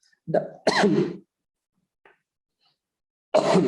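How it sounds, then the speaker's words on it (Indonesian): Two sharp coughs burst out close by, followed by a quiet pause, a tiny click, then another cough-like burst at the end. "Sorry, batuk."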